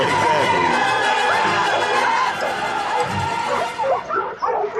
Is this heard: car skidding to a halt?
no